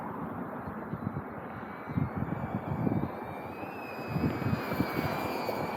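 A DJI Avata FPV drone races downwind at roughly 40 to 60 miles per hour, making a steady rushing roar with a thin motor whine that climbs in pitch, close to the microphone and with no voices.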